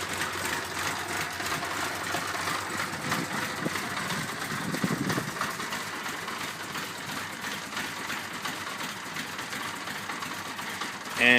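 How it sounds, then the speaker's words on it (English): A 1978 Honda CB550 motorcycle engine idles roughly after a cold start, a steady mid-level rumble with uneven sputtering pulses, heard nearby and continuing without a clear stop. "Getting a little sputtery. See, it's kind of dying now."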